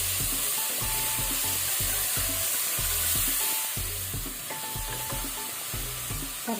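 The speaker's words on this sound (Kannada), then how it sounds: "ತರಕಾರಿಯನ್ನು ಸ್ವಲ್ಪ ಒಗ್ಗರಣೆಯಲ್ಲಿ ನಾವು ಫ್ರೈ ಮಾಡ್ಕೊಳ್ಳುವ." Brinjal and potato frying in a tempering of oil and hing for a village-style kadle kalu sambar, a constant dense sizzle with regular thudding stirs of the ladle against the pan.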